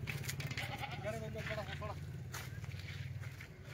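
Kathiawari dairy goats bleat in a farm setting, a few wavering calls standing out over a steady low drone and faint background voices.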